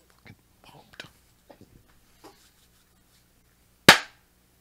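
A single sharp hand clap rings out near the end, loud and close, after a few soft murmured voice fragments.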